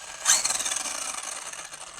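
A Losi RC sprint car's electric motor whirring up on a light touch of throttle, a sharp high whine that jumps in quickly and then holds as a steady, thin buzz, close and alone.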